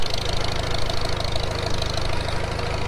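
A 1944 Farmall H tractor engine running steadily after starting, a loud, close, rhythmic low chugging idle with an even knocking beat and no voices.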